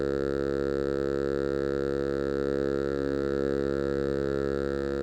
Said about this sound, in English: Let's start with just the hall reverb. So slowly bring it in.